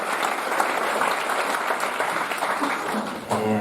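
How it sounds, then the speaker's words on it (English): A room of people applauds the staff of Fuckup Nights Tel Aviv-Yafo at an evening event, steady dense clapping throughout that briefly dips near the end before a voice cuts in. "Some applause for everyone who put this together tonight"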